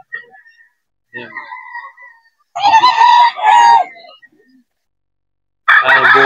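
A bulik gamecock rooster crows at a pet market, giving two loud, close crows with a strained rising call, a few softer clucking notes before them, and the start of another crow at the end.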